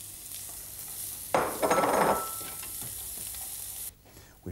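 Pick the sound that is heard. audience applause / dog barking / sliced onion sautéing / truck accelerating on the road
sliced onion sautéing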